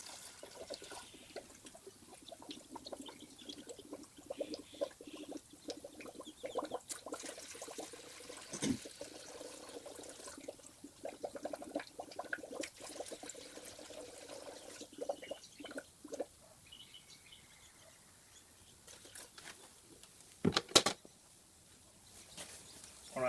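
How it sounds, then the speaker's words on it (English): Water is poured into the cooling system of a KN/KQ Ford Laser, gurgling and bubbling quietly and steadily at close range, with a few brief louder splashes near the end. "So as it bubbles down, we just add more water."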